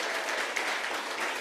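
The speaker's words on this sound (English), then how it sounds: "Can we give our panelists another round of applause" At a women's empowerment summit, an audience applauds the panelists with steady, dense clapping heard at a moderate distance, sounding like a brief unbroken wash of hands.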